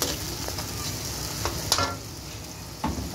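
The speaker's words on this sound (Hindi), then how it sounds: "ये पहले थोड़ा सा भुना लेती हूँ, इसकी भुनाई करती" Whole garam masala spices roasting and being stirred in a pan for Afghani pulao, giving a soft steady sizzle with light scraping stirs and a few brief clicks, close and alone.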